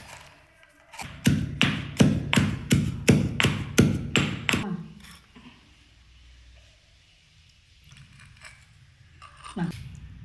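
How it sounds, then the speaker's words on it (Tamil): Guava leaves pounded for a natural food colouring: about a dozen loud, evenly spaced thuds in quick succession, then quiet handling noises and a faint knock. "கொய்யா இலை இதை வச்சு தட்டணும்."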